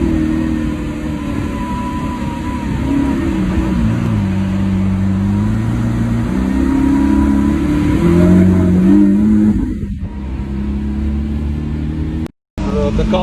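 A Lamborghini SVJ 63 Roadster's engine revs repeatedly, its pitch climbing and falling in waves over a sustained drone, with people talking nearby before a brief cutout near the end.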